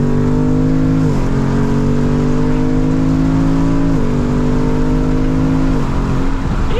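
A V8 car engine held at high revs roars loudly and close, a steady drone whose pitch dips briefly several times before climbing back, with no talking over it.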